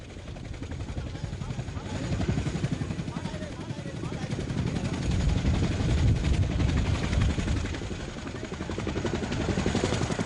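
An overloaded evacuation helicopter, crammed with over a hundred people in a 50-passenger craft at Xuân Lộc in April 1975, beats with a loud, rapid, continuous rotor chop that swells and eases, while a voice talks over it.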